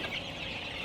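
Andijan black chicken chicks clucking and peeping steadily, close by and moderately loud, with no talk over them.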